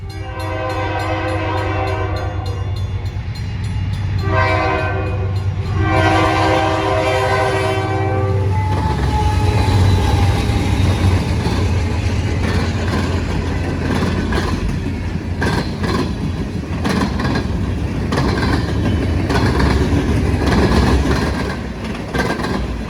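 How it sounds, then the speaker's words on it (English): A freight train racing through Newton, New Hampshire in a blizzard on its way from East Deerfield to Portland, its horn blaring in long loud blasts before the heavy roar and clatter of passing cars takes over. "It's the middle of a blizzard in Newton, New Hampshire, as a train races through on its way from East Deerfield to Portland."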